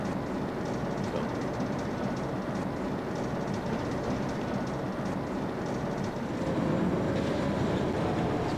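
A train in the Trainz video game on a Scottish East Coast Main Line dock route rumbles along continuously, a steady dense roar with faint rhythmic clatter and no voices.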